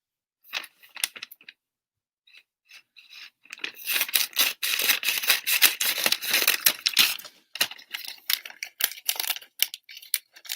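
Scissors snip and rustle through material in short crisp bursts, sparse at first and then a busier run of cutting and crinkling, close and alone without talk.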